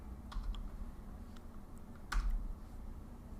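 Someone types on a computer keyboard, a faint scatter of light key clicks over a quiet room hum.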